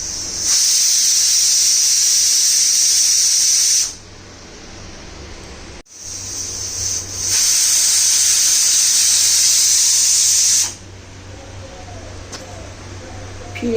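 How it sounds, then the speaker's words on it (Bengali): Loud, close steam whistle from a pressure cooker on a gas stove cooking bottle gourd: a long sustained hiss, a brief break, a second long blast, then a lower steady background rush. "এভাবেই আরও 2টো সিটি দেওয়ার পরে আমি কুকারটা গ্যাসটা অফ করে দেব"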